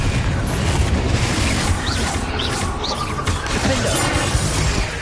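Explosive Confringo spell blasts in Hogwarts Legacy combat, a dense continuous rumble of booms and crashes with scattered bright whooshes and magical flashes, loud and sustained throughout with no break.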